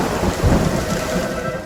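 Heavy rain pours in a dense, continuous hiss with low rolling thunder underneath during a rainstorm, with no voices.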